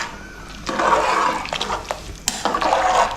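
Water is poured from a cup into rice in a pot for chicken biryani, a close splashing and gurgling pour in a few bursts with small clinks, no talking.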